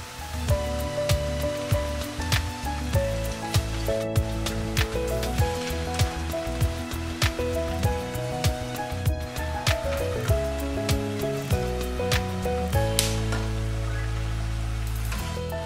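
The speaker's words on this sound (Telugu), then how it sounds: "రెండు వైపులా ఫ్రై చేసుకుందాం" Chekkalu, crisp Telugu rice crackers, sizzle in hot oil with a dense, steady crackle and popping bubbles, close and continuous, while a melodic music track plays over it throughout.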